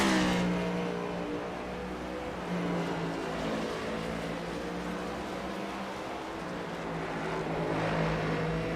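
Next gen stock cars race at Watkins Glen in a racing video game, their engines droning at a steady, loud pitch that rises and falls slightly.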